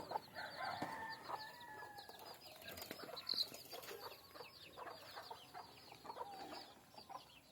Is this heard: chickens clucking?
yes